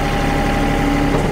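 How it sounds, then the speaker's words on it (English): A tractor sits at a steady low idle while its loader drops on its own in float mode, a constant engine rumble with a faint hum and no voices. "I'll go into float mode and the loader will drop."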